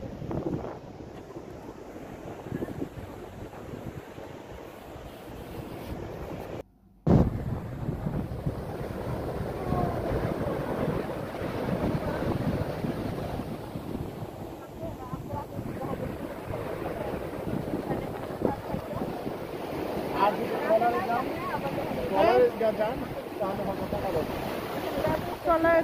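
Sea waves roll onto the seashore in steady wind, with a constant broad wash of surf and wind buffeting the microphone. People talk intermittently over it.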